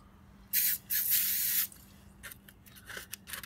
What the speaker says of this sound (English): a bit of a spray, get it nice and wet.